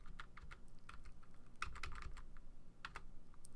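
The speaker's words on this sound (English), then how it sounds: "I'm using the arrow keys on the keyboard now just to" Arrow keys tapped on a computer keyboard in irregular bursts of soft, close clicks, some quick and clustered, others spaced apart, with no talk.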